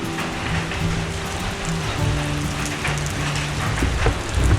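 Steady rain keeps falling at a Krabi temple near a long hillside stairway, a constant close patter of drops on surfaces that swells slightly toward the end, with no talking.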